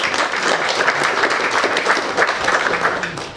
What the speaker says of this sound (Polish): To brawo dla tych, którzy są z nami na pierwszy raz.